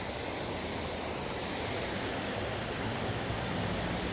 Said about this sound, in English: gotta love the fountain.